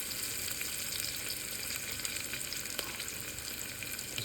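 Garlic, ginger and tomato fry with onion and turmeric in a pan, a quiet steady sizzle and crackle broken by occasional scraping stirs. No voices.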